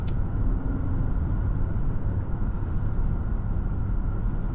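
Steady, even cabin drone of a 2027 Kia Telluride X-Line EX cruising in normal drive mode, a low broadband road and engine rumble holding constant throughout with no voices.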